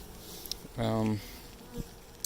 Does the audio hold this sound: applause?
no